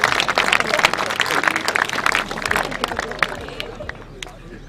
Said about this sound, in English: Let's give another round of applause for Hilton College.